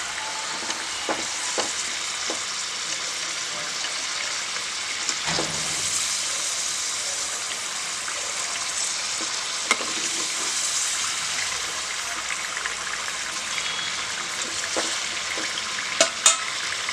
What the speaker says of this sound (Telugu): ఇట్లా మధ్య మధ్యలో కలుపుకుంటూ ఉండాలండి ఉసిరికాయలు